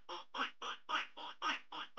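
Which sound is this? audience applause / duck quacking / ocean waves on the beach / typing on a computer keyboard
duck quacking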